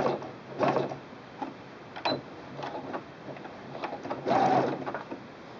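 Sewing machine stitching elastic onto fabric to gather it for a wine bottle gift bag, heard close up as a few short bursts of running stitches separated by brief pauses.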